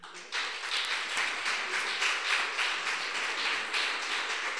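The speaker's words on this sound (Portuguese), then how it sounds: "Dá uma salva de palmas ao Senhor." A church congregation applauds during a family worship service, a steady, dense round of clapping that stays fairly even throughout, with no talk over it.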